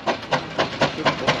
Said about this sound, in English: just listen to the bark from the single